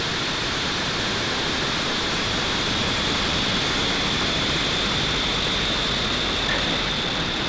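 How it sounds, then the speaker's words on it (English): SpaceX Falcon 9 rocket lifting off on the Intelsat G-37 mission, a continuous broadband roar that stays dense and steady throughout, loud and unbroken, with no voices heard. "Ignition and liftoff for Falcon 9."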